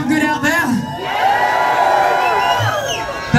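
Crowd at a live rock show at the Whisky A Go Go on New Year's Eve cheering and whooping loudly and steadily throughout, with a voice speaking over the noise at the start.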